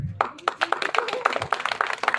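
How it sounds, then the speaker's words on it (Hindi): Rhythmic clapping from an audience at a speech competition, a steady run of sharp, evenly spaced claps lasting a couple of seconds with voices mixed in underneath. "ताली जोर से बजनी चाहिए"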